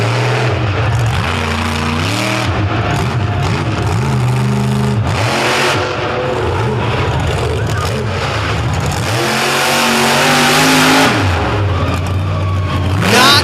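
A race car engine revving hard on a muddy dirt track, rising and falling repeatedly in loud aggressive pitch sweeps, with a commentator talking over it.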